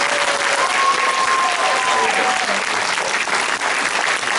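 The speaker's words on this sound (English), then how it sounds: "let's give one last round of applause" An audience gives a sustained round of applause for honorees at a televised awards event, dense steady clapping filling the room throughout with faint voices underneath.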